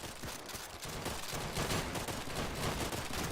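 Sniper and small-arms fire in the World War II shooter Easy Red 2 on a custom southern France map, a dense, loud rattle of overlapping shots and distant volleys filling the whole moment without voices.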